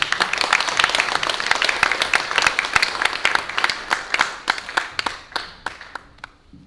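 Audience applaud after a lecture by a former seminary university president, a dense burst of clapping that thins into scattered individual claps and fades out near the end.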